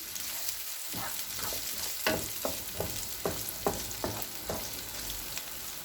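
Onions sizzle steadily in hot oil while a utensil scrapes and stirs the pan in a loose rhythm, close up.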